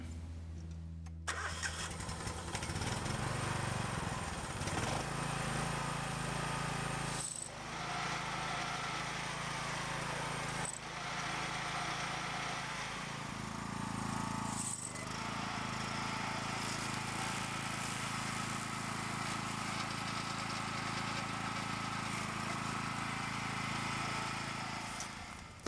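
A DR walk-behind mower's engine is pulled to start, catches almost immediately, and runs steadily at a loud, constant drone for over twenty seconds, with a few brief dips and clicks along the way and no talking.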